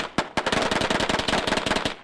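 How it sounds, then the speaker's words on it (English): A rapid volley of loud naval gun shots from the battleship USS Alabama fires in quick succession, sharp cracks overlapping into a dense rattling burst that lasts about two seconds. "that's the sound of a gun being shot on the USS Alabama"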